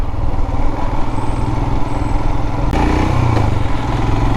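A Royal Enfield Himalayan motorcycle engine idles close by with a steady, thumping single-cylinder pulse, then a brief rev and clatter near the end.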